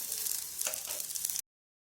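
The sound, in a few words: onion frying with green chilli and garlic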